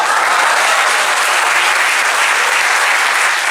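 An audience claps through a live stage performance, a dense and loud wash of applause that stays steady throughout with no break.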